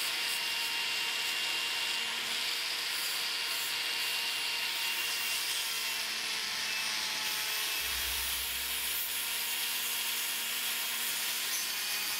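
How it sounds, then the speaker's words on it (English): Dense, steady abrasive whir of Dedeco bristle discs spinning against a metal saddle ring during pre-polishing, a continuous bright hiss with slight shifts in pressure, close and loud with no voices. "Then I moved on to some Dedeco bristle discs, blue one, pink one and the finest green one to pre-polish the ring."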